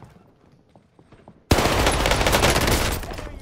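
Video game gunfire erupts suddenly after a quiet stretch with faint clicks, a loud continuous automatic burst of rapid close shots sustained for about two seconds, with no talk.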